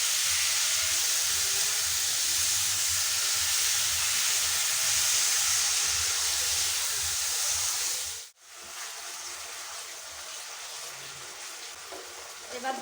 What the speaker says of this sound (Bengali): এবার একটু ভালো করে নাড়াচাড়া করে দেবো।